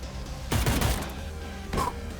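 Pistol shots in the tactical video game Cyber Knights Flashpoint, a quick burst of sharp reports followed by a single later shot over a steady game background.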